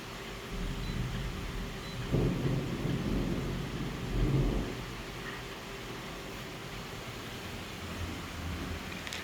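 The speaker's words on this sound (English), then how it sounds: "just like the lightning you can hear, the thunder you can hear" Deep thunder rolls twice in a storm, low rumbles swelling and fading over a constant wash of falling rain that continues between the peals with no talk.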